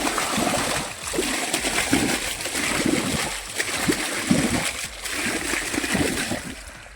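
Water splashing and gurgling steadily as it is let onto a patch of dry fodder grass in a field, a close, continuous rushing flow with small surging splashes throughout.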